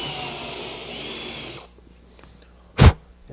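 A power drill bores a hole in wood for a chest of drawers. Its loud, steady whine runs for about a second and a half, stops, then a single sharp thump follows in near silence.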